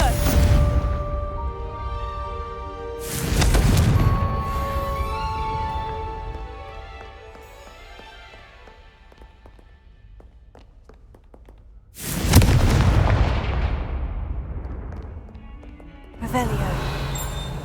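Confringo fire-blast spell from Hogwarts Legacy erupting in three loud, sudden explosive bursts spaced across the stretch, each decaying over a few seconds, with game music and a voice running between them.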